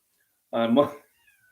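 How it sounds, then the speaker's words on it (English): A cat meows once, close by and fairly loud, asking to be let in from outdoors; a single drawn-out call standing alone against quiet. "Yeah, Kitty wants in."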